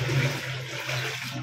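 A newly installed one-piece water closet toilet flushes during a test, a short, full rush of swirling water with a low gurgling hum, close and alone.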